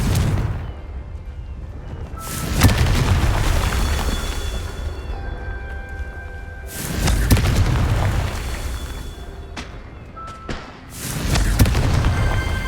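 Confringo spell explosions in the video game Hogwarts Legacy, three deep booming blasts a few seconds apart, each rolling out into a long rumbling tail, loud and alone with no speech.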